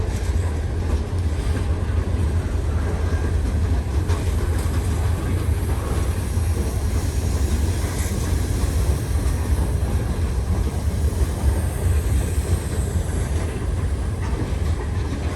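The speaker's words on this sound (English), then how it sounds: "This is a pretty heavy train for only 2 locomotives, isn't it? On wet rails." A heavy Norfolk Southern freight train with only two locomotives rolls past on wet rails, a loud, continuous rumble and roar of wheels and engines close by, with no voices.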